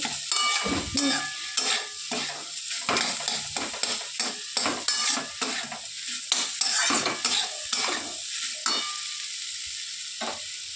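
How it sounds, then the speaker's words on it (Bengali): Fish roe is stir-fried with potato and pointed gourd, as rapid, rhythmic spatula scrapes against the pan repeat over a lively sizzle, close and fairly loud. "খুব সুন্দর করে এটা আমরা ভাজা ভাজা করে নেবো"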